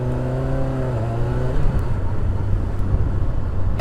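Heard from a motorcycle rider's position, a car passes nearby in road traffic, with a steady engine drone and wind noise throughout and a falling engine tone as it goes by.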